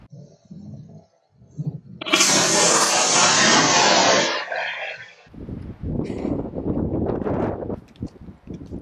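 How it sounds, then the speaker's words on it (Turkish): Outdoor wind buffets the microphone in heavy, roaring gusts for a few seconds during a reflex sight check. It then drops to a softer, uneven rustle and rumble. "Biraderimin de dediği gibi rüzgar biraz etkili."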